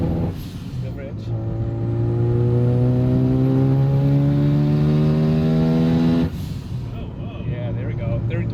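A restored Mazda FC RX-7 rotary engine pulls hard through the gears, its tone climbing steadily for several seconds before a sudden drop at the shift, then settling lower; loud and close, heard from inside the car.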